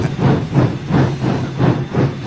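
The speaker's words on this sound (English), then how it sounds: "that was a pretty exciting burnout" Train locomotive wheels spinning in a burnout in a video game, a loud rhythmic chuffing hiss that surges about every half second in repeated steady pulses.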